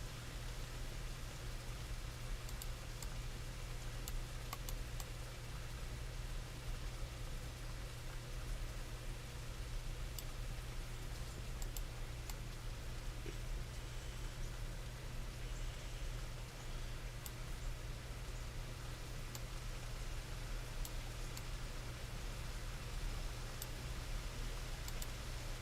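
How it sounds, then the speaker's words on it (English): Rain patters steadily on a microphone outdoors, a dense, even hiss with faint scattered ticks that never lets up, no voices. "Can you hear the rain on the microphone, guys?"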